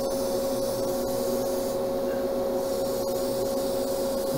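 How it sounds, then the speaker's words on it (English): Steady airy hiss of a paint spray gun running continuously at about 20 to 25 psi, with a constant tonal whine underneath and no voices. "Spraying it about 20 to 25 psi."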